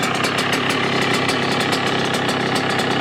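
A 2019 Yamaha YZ125 two-stroke motocross bike idles close by, a steady buzzing engine note with a fast, even pulsing and no voices.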